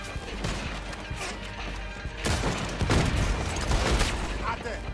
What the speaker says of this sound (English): He's shooting! We have to take him down!